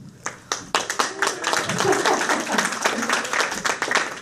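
Applause and clapping from a stand-up comedy audience at the Comedy Shrine in Aurora, rising quickly into dense sustained clapping that fills the room, close and loud.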